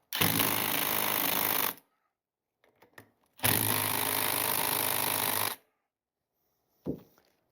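A battery impact wrench with a 5/8 socket rattles loud and close in two sustained bursts of about two and three seconds, working on an '81 Corvette brake caliper, with brief clanks and handling noises between and after.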